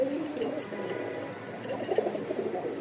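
Rajshahi Giribaz pigeons coo with a continuous low, throaty burble, several birds overlapping in a soft, rolling murmur that is close and steady throughout, with no talking.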